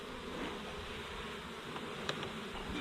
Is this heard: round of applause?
no